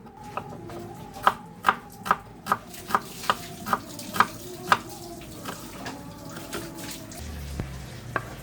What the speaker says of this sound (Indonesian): Selanjutnya saya akan potong lagi bawang merah